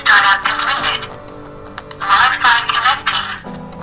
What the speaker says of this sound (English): It has an alarm, which is really loud.